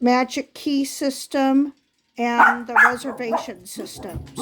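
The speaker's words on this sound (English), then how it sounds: "Sorry if you're hearing barking in the background." A pet dog barks in the background of a home while someone talks continuously over it.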